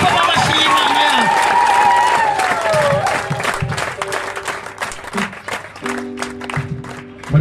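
A church congregation at a worship gathering claps and cheers loudly, applause filling the room before thinning into scattered claps under a preacher's voice.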